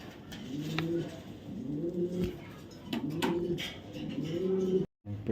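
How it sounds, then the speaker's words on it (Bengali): Racing pigeons coo in soft, repeated rolling phrases, with four clear coo sequences close by, against a light background hiss and no talk. "মাক্সি রেসার কবুতর দেখাবো, জাস্ট কবুতর কোয়ালিটি দেখেন"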